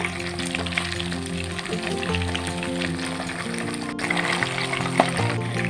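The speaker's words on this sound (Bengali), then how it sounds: "তেল ভালো করে গরম হলে এরপর ম্যারিনেটেড মাছগুলো দিয়ে দিলাম। ভালো করে ভেজে নেব।" Marinated pabda fish frying in hot oil in a pan: a loud, continuous close crackling sizzle with small pops, with no talking.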